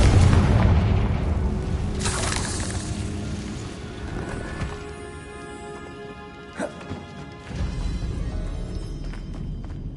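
A Confringo blasting spell from Hogwarts Legacy explodes with a loud low boom and crashing debris at the start, followed by rumbling game ambience and a few smaller impacts.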